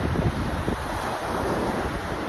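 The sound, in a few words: wind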